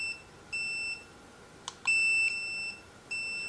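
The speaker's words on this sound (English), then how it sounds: "That is the tone on the collar as well." A remote training collar for a wireless dog fence emits high electronic beeps in several sustained tones of a second or so each, faint and slightly echoing in a quiet room, with a small click between them.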